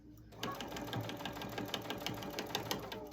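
A sewing machine stitches through a foam dish drying mat, a steady fast rhythmic needle clatter running continuously at close range after a brief quiet start.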